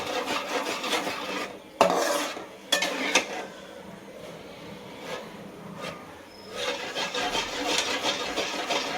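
Bhakri flour roasts in hot ghee in a pan while a spoon keeps stirring, giving a continuous close scraping and rasping with a few sharper knocks against the pan.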